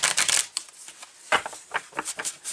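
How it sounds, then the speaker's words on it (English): Quick, papery riffling of tarot cards being shuffled, several bursts in a row, close and fairly crisp with brief pauses between. "Let's shuffle, shuffle, shuffle, shuffle, shuffle."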